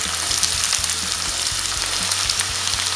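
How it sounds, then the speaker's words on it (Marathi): Finely chopped onion frying in about three spoons of hot oil in a pan, a loud steady sizzle throughout with a few low clatters of stirring, no voices. "तेल तापल्याच्या नंतर आपल्याला हा बारीक चिरलेला कांदा आहे"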